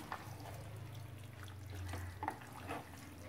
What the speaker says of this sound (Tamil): இதில் அந்த தண்ணியும் ஊற்றிடலாம்